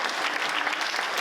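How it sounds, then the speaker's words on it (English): A short burst of dense audience applause at a civic levy discussion, loud and close, a continuous rattle of many hands with no speech on top. "I want you to all give them a round of applause"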